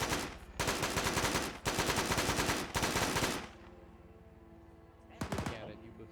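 Bursts of automatic gunfire from the video game Insurgency, three long sustained volleys close and loud, then a quieter lull and a final short burst near the end.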